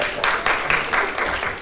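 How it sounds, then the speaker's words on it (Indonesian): A church congregation breaks into a brief round of clapping, a short burst of uneven hand claps that rises and dips over under two seconds. "Tepuk tangan dulu dong."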